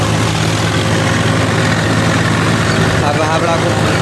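A tractor engine, a Swaraj 744 or Eicher 380, drones steadily and loudly while pulling free of mud, with people talking faintly in the background.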